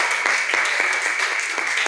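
Dense audience applause at a breakfast conference, steady clapping from many hands filling the room throughout, loud and sustained with no pauses.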